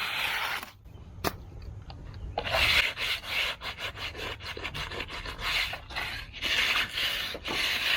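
A wooden brace being scratched and rubbed down to height, producing repeated rasping strokes with short pauses and a few sharp knocks between them, close and fairly loud.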